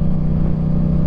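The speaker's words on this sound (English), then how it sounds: "I love my exhaust sound from my MT-07." A Yamaha MT-07 motorcycle fitted with a Yoshimura exhaust, giving a loud, steady low engine drone held at an even pace from close by with no speech.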